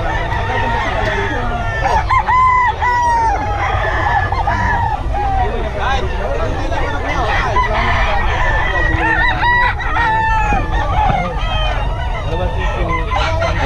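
Italian-breed gamecock roosters crow repeatedly and cluck nearby amid a busy outdoor babble of voices, with people talking throughout and faint traffic noise.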